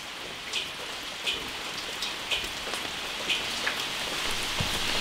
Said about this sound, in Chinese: 终于下雨了